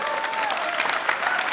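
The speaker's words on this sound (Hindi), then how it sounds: "ऑडियंस है तो अच्छी ताली बजाओ एक बार।" Studio audience applauding at a political talk show, a brief, lively burst of close clapping with a faint voice or two mixed in.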